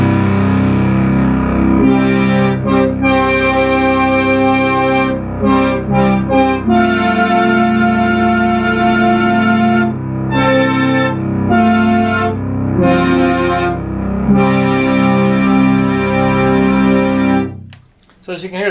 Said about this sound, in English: so as you can hear, the sequencer still works